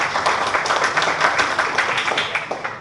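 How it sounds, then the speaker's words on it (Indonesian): An audience at a university public lecture with BPMA in Aceh gives a steady burst of applause: dense, continuous clapping from many hands at a fairly loud, even level, fading slightly toward the end. "Tepuk tangan juga untuk Pak Radhi."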